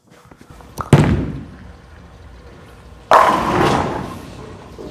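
A Storm Next Factor bowling ball hits the lane with a sharp thud and rolls with a fading rumble. About two seconds later it crashes loudly into the pins, followed by a clattering decay.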